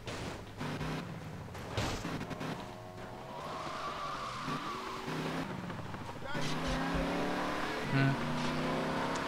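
Car driving in the video game GTA: Vice City, engine tones rising and shifting with tyre squeals and skids, fairly quiet, with someone talking over the game sound.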